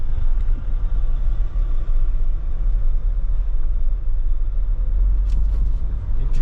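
A Mercedes-Benz camper van drives along with a constant low engine rumble and road noise filling the cabin, steady and close, with faint light rattles toward the end.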